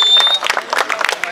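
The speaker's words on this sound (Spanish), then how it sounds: "Aplauso, por favor, aplauso," Crowd at a freestyle rap battle final breaking into brief, dense applause with scattered claps and cheers, close and loud over murmuring voices.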